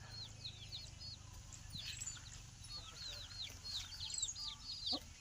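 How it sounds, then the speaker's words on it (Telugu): A hen with eight chicks makes faint, soft clucks while the chicks keep up a constant high peeping, with quiet background noise. "8 పిల్లలు ఒక పెట్ట"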